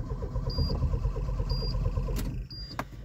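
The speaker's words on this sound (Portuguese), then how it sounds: "Vou dar uma ligadinha rápida, porque esse carro aqui ele tá meio barulhento." A noisy Fiat Tempra Stile 2.0 8V turbo engine with a large intercooler cranks with a rapid, rhythmic churning while a repeating electronic chime beeps at steady intervals, followed by a couple of sharp clunks.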